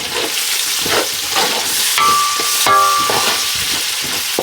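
Garlic fries in a pan with meat juices for an oxtail curry, giving a loud, close, continuous sizzle with scraping stirs throughout.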